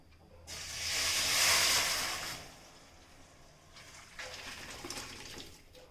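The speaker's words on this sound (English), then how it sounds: "Now I will be adding my boiled vegetables." Boiled vegetables tipped into a hot pan for traditional South Indian kadambam rice set off a loud sizzling hiss that swells quickly, then fades to a softer crackle with a few brief flare-ups. No one talks.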